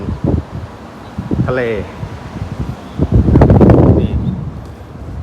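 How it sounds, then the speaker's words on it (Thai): Strong wind outside Wat Pak Nam Khaem Nu in Thailand buffets and roars across the microphone in gusts, with a brief voice speaking over it. "เสียงลมก็ตามนี้เลยนะฮะลมแรงมาก"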